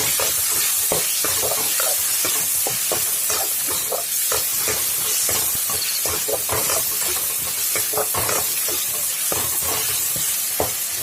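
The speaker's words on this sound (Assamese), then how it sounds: "আমি যেতিয়ালৈকে আপোনাৰ বিলাহীখিনি মানে গোল হৈ নাযায় তেতিয়ালৈকে আমি এইখিনি ভাজি থাকিম" Finely chopped tomatoes frying over low heat in a pan for an Assamese egg curry, giving a steady close sizzle with repeated stirring scrapes and clicks throughout, with no talking.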